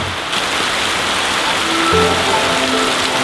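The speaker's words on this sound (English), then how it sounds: "This morning has been pretty rainy" Steady rain falls on the Tambopata rainforest in Peru, a dense, continuous hiss of drops on leaves and surfaces, close and fairly loud throughout with no voices.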